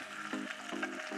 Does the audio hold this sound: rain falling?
no